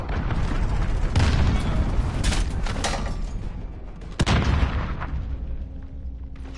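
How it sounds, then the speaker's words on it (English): Cruise missile strikes explode in a Modern Warfare beta match, a dense rumble of booms and blasts with a sharp hit near the middle and another louder impact later, all loud and close. "Allied cruise missile launched."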